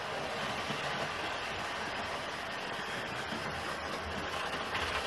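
A Hornby T9 LSWR 4-4-0 model locomotive in sage green runs around a model railway track, giving a steady, even whirring rumble throughout with no talk.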